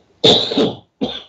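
One loud, close cough followed shortly by a second shorter cough, with silence around them.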